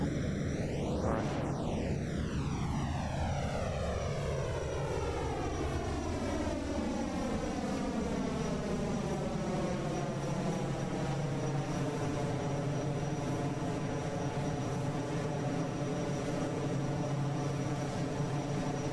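Concorde engines cruising at high altitude in a flight simulator give a steady, continuous airliner roar with a sweeping tonal whine that glides down early on and then settles into an even drone, with no talking.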